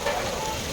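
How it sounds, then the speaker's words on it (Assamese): Potatoes frying in a pan with a steady, close sizzle that holds evenly throughout, with no voices over it. "দাংবডি আলুটো ভাজি লওঁ"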